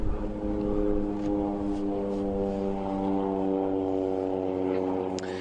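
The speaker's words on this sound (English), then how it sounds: "Just got an aircraft leaving one of the lodges, folks." A propeller aircraft takes off from a safari lodge, its engine giving a steady, droning hum that holds loud and unbroken in the background throughout.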